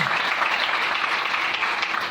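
A church congregation applauds, a dense and steady wash of many hands clapping together at full volume from start to finish.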